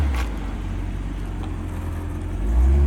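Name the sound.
1984 C4 Corvette engine running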